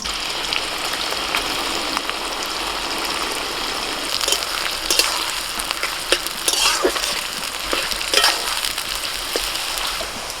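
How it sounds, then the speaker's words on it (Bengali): Sliced onions fry in hot oil for mutton biryani, a steady close sizzle with bursts of crackle and popping spatter throughout, no voices. "তেল গরম হয়ে গেছে, পেঁয়াজ বেরেস্তাটা ভেজে নেব।"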